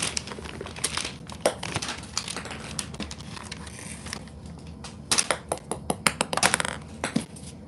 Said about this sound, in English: he scares himself with the paper, like the noise of the paper